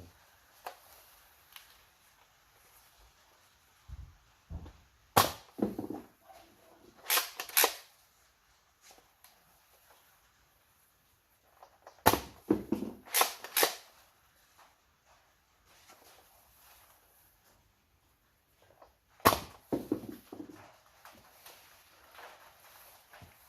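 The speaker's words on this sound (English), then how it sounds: "And now let's see what grenade launcher is doing." A Nerf pulse rifle's grenade launcher fires several times in separate bursts, each a sharp close pop or clack with brief rattling handling noise around it, spaced by quiet gaps, no voices.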